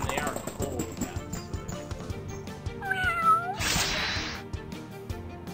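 Cat enemies in the Epic Battle Fantasy 4 video game let out loud, close meows over busy game music and battle effects, with a higher, drawn-out cry near the middle.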